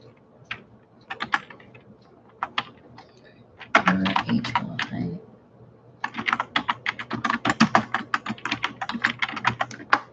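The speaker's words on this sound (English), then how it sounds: "I'm going to type this out" Typing on a computer keyboard in a quiet room, with short bursts of clicking keystrokes, a pause, then a longer steady run of rapid taps, close and moderately loud with no voice.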